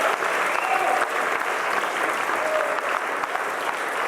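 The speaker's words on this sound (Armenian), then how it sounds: "Եկեք ծափարենք" An audience at an Armenian comedy game show applauds in a steady, dense burst of clapping that fills the room evenly from start to finish.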